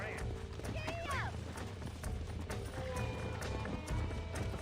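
A horse gallops in Red Dead Redemption, its rapid rhythmic hoofbeats steady and close, with a brief whinny early on and a voice talking over the ride.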